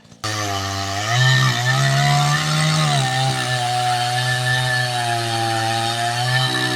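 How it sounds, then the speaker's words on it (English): A chainsaw with a dull chain cuts into a big white oak log, its engine starting abruptly and then holding a loud, steady, close drone with slight pitch dips as it bites into the wood. "Unfortunately, our saws are dull today. We sharpened them, but it didn't help much."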